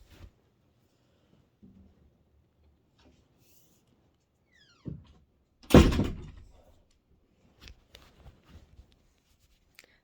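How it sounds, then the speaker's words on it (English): A bedroom door pushed shut with a stick gives a short knock, then one loud thud in a quiet room, followed by a few faint taps and rattles. "Hold on, I'm trying to close my door."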